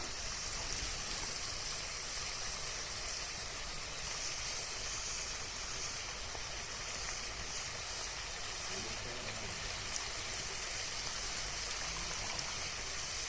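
Steady running water while pui shaak greens are rinsed again, a continuous broadband rush filling the whole stretch at an even level, with no talk.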